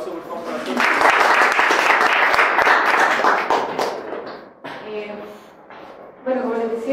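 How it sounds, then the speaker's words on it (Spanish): An audience applauds after a Pastoral UC talk, with a thick burst of clapping that swells, then thins and trails off, followed by a voice starting to speak near the end. "Un aplauso por favor para ti."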